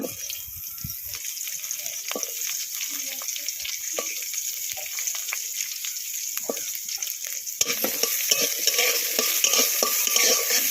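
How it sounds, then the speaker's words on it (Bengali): Onion and garlic frying in a pan, a dense, steady sizzle that grows louder and brighter partway through, with light stirring noises and no talk. "রসুনের সাথে পেঁয়াজও ভেজে নেব"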